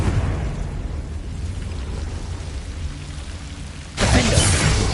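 Confringo fire spell in the video game Hogwarts Legacy, a rumbling roar that swells into a sudden loud, bright blast near the end, no talking.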